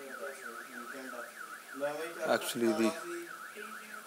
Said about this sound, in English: alarm of my car went on now